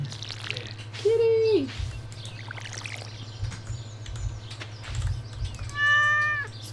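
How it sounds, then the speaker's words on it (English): A cat meows twice in the farming game Stardew Valley, a drawn-out mew early on and a brighter, higher one near the end, over a steady low game hum and music. "Kitty!"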